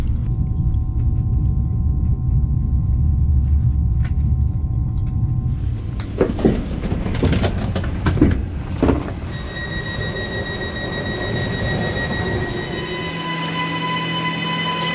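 A Swiss EuroCity train rides from Milan toward Como, a loud steady rumble of the carriage on the rails, with clatter and brief squeals midway and a sustained electrical whine later in the run.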